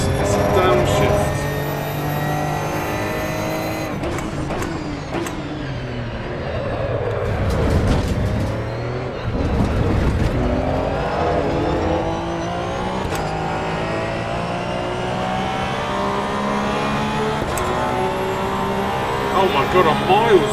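A race car engine in Assetto Corsa EVO roars loud and close, revving through repeated downshifts with the pitch dropping and climbing again, while occasional voices talk over it.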